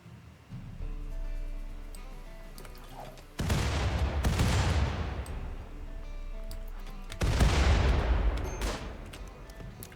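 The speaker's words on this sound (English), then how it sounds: "Stop throwing grenades at my base!" Gunfire and grenade blasts from the video game Rimworld: two loud explosive bursts, each trailing off into a crackling decay, separated by quieter background game sound.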